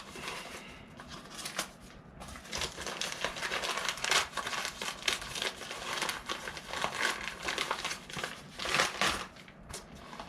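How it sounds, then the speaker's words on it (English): A crinkly taped parcel box is handled and opened up close, with continuous crackling, crumpling and rustling of packaging at moderate volume. "it is a crinkly box of some sort"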